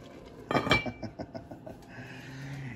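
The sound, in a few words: covering cooking pot with lid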